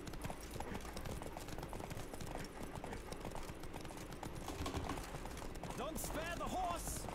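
Steady rapid hoofbeats of a galloping horse in The Witcher 3, a dense continuous clatter running the whole time under busy game ambience, with a brief whinny-like call near the end.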